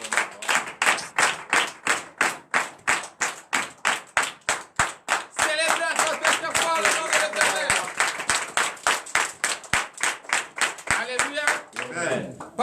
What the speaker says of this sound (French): donnez une vive acclamation à l'Éternel